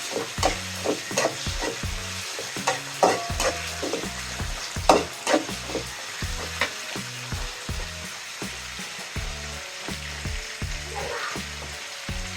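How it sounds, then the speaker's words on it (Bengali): Green chillies and bay leaves frying in oil in a pan while being stirred, for a mustard-paste taro stolon dish; a steady sizzle runs underneath repeated scraping strokes of a spatula, close and clear, with no talking. "দিয়ে দিলাম কাঁচামরিচ, একটু নাড়াচাড়া করে দিলাম।"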